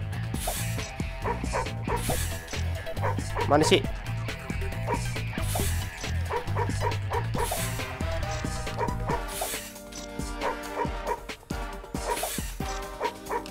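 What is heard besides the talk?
dog barking in video game Madagascar: Escape 2 Africa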